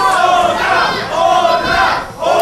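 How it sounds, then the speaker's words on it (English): A wrestling crowd at a live pro show in Los Angeles chants "Otra" in unison, a loud, dense roar of many voices rising and falling in steady repeated waves that fill the arena. "The crowd chanting Otra"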